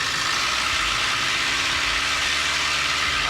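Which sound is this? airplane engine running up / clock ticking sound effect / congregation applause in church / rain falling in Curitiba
airplane engine running up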